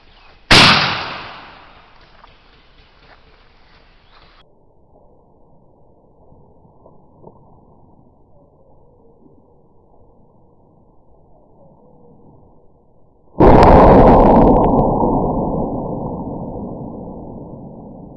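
A small cannon loaded with about 35 grains of homemade black powder, wadding and cannon fuse fires outdoors: a brief sharp crack early on, a long hissing fuse burn in between, then a loud booming blast that decays slowly.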